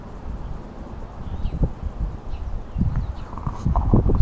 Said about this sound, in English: I have no wind reduction on or anything like that. Wind is blowing.